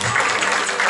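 Applause from an audience at a bridal fashion show at a wedding fair, a steady dense wash of clapping filling the whole second with some voices mixed in.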